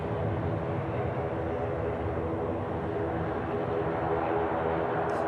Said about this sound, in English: There's a flight from Ibiza inbound there.